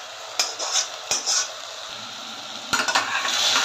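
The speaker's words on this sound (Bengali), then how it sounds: "এবার আমি এই যে মশলাটা বানিয়েছি সেটা এর মধ্যে মিক্স করে দিচ্ছি।" Patiala chicken is stirred with a spice mix in a pan, giving a loud close sizzle with scraping and clattering strokes of a utensil against the pan, heard alone.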